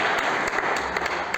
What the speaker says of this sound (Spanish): Fuerte el aplauso al querido.